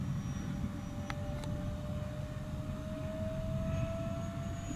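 An E-flite Habu SS 70mm electric ducted-fan model jet in flight, a steady whooshing whine with a thin tonal line, heard from a distance at constant loudness.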